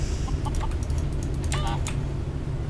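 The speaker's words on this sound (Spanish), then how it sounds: "Y hay muchas gallinas" Chickens cluck in a Minecraft DayZ mod game, a handful of short clucks and chirps scattered over a steady low hum of background noise.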